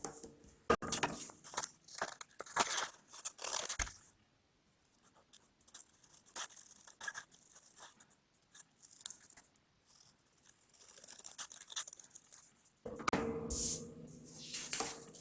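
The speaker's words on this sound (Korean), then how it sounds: "여기 부위를 가위로 자르겠습니다" Scissors snip through paper while cutting out a paper-folded Pokémon Alligay (Feraligatr) craft, giving close, quick crisp cuts in bursts at the start and again near the end, with a quieter stretch of soft handling in between.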